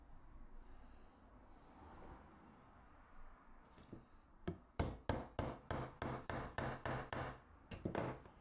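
A chisel cleans old glued-in wood out of a pine piece, striking in a quick series of sharp, close knocks after a quiet stretch of faint rustling and breathing.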